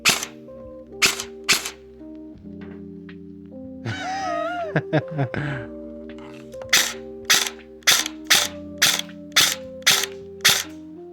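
An airsoft gun with a freshly changed spring fires a run of sharp, evenly spaced snapping shots, a pause in the middle filled by a brief whirring, then a quicker string of shots over a steady low hum.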